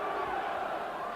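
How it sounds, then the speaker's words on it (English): A boxing arena crowd at a heavyweight bout roars and chants a fighter's name, a dense, steady wash of many voices filling the hall. "Crowd chanting, Bruno, Bruno."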